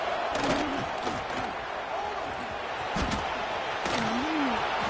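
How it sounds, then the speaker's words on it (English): A football stadium crowd during a college game roars steadily and loudly throughout, a dense wall of cheering with scattered louder shouts and whistles rising out of it. "This crowd rising up, sensing that its defense needs some help."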